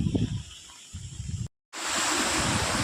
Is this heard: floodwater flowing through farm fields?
yes